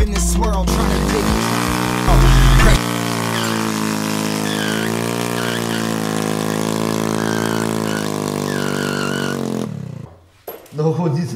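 Scooter engine catching and settling into a steady idle, its buzzing drone held for several seconds close by, then cutting out near the end, with music playing over it.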